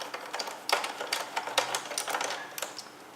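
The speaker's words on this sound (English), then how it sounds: "Now we're going to release those 4 screws, 1, 2, 3, 4, to release the bottom faceplate." Screws are backed out of the bottom faceplate of an iRobot Roomba 500/600 series vacuum, heard as close, rapid clicking and ratcheting bursts in quick uneven runs with short pauses between.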